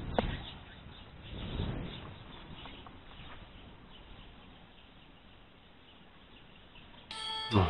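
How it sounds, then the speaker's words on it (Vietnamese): Birds sing outdoors at a Khmer temple in Sóc Trăng, with faint scattered chirps over a quiet ambient background and a few louder bumps, ending with a brief ringing tone. "Tiếng chim hót quá trời luôn"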